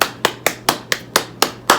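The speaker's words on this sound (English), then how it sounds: "Can we give a round of applause for me?" A single person clapping close by, eight sharp, evenly spaced claps in a slow, steady rhythm.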